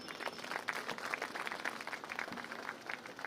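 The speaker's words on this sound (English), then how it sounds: "I request the respected assemblage to express their happiness with a big round of applause." Faint applause rises from the assembled audience at the inauguration of a courts building complex in Chittoor, a patter of many hands clapping steadily at a distance for a few seconds.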